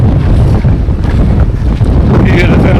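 Strong gusting wind buffets the microphone in an open seaside setting in Hawaii, a loud continuous roar with low rumbling throughout, under faint background voices.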